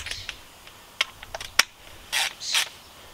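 Socket ratchet tightening the 21 mm bolts on a Renault Koleos front shock absorber, giving a string of short, sharp clicks, some louder than others, then two longer rasping bursts toward the end, nearby and without talk.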